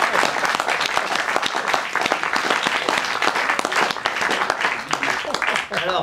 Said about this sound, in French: Applaudissez maintenant.